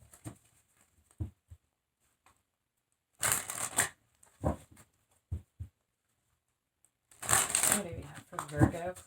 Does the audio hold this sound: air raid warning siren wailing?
no